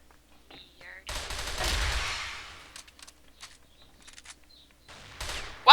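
Automatic gunfire in the shooter game CrossFire, a loud sustained burst of rapid shots followed by scattered single cracks and short bursts, close.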